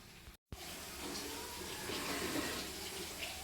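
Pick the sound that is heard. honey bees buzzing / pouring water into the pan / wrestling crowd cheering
pouring water into the pan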